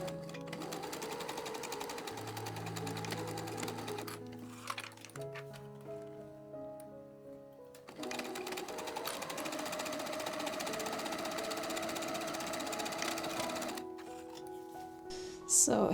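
A sewing machine stitching the seam of a circle skirt, running in bursts of rapid mechanical clatter whose pitch shifts with speed, pausing briefly around the middle before resuming, close and steady without voices.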